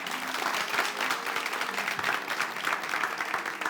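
A studio audience at a live Togolese television game show semi-final applauds the three winners of the day, a brisk, continuous patter of many hands clapping at moderate loudness.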